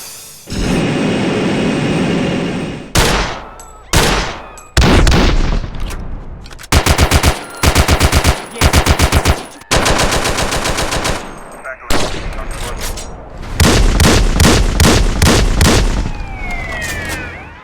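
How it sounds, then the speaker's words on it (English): Loud remastered weapon gunfire in GTA San Andreas, including long sustained automatic bursts, rapid rattling volleys and single heavy shots, with sharp breaks between firing sequences. "Weapons looks even better now, and they also come with some new sounds like this."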